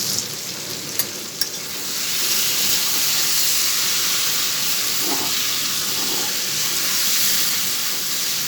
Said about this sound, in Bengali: মশলার সাথে ভালো করে কষিয়ে নিচ্ছি